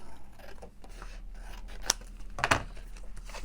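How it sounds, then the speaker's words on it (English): Scissors snipping paper for a journal craft pocket, a few quiet close cuts and crisp snips with no talking. "Let's use the scissors on here, shall we?"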